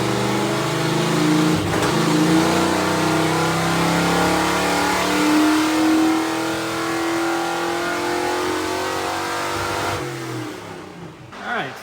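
A carbureted-to-Holley Sniper fuel-injected car engine revs hard through a dyno pull, a loud sustained rising roar that climbs in pitch for about ten seconds before letting off and dropping away.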